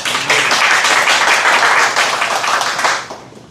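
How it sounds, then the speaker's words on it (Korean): Crowd at a metalworkers' union rally applauding guests, a burst of many hands clapping close and loud, holding steady before thinning out and stopping near the end. "박수 부탁드리겠습니다."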